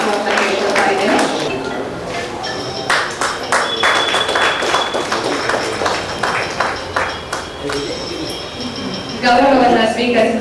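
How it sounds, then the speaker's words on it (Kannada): Audience applause at a book release ceremony during a writers' association anniversary in Davangere, Karnataka: sustained clapping from a hall crowd, swelling and thinning in waves, with a short rise near the end. "ಹೃತ್ಪೂರ್ವಕ ಧನ್ಯವಾದಗಳನ್ನ ತಮ್ಮೆಲ್ಲರ ಚಪ್ಪಾಳೆಯ ಮೂಲಕ ತಿಳಿಸಬೇಕು ಅಂತ ಕೇಳ್ಕೊಳ್ತಾ ಇದ್ದೇನೆ"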